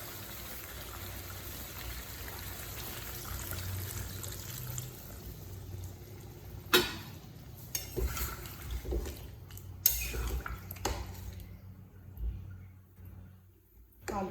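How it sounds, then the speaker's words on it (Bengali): Hot water being poured into a simmering chicken curry with potatoes, heard as a soft, continuous watery rush that breaks into a few sharp splashes and clatters before fading to near quiet, with no talking. "এবার আমি গরম জলটা দিয়ে দেবো।"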